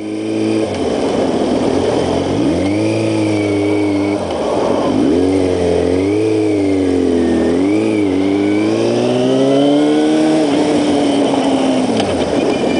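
A Yamaha R6 sport motorcycle on a road in the UK revs hard and close, its engine note climbing and falling in pitch through gear changes over a loud, continuous roar.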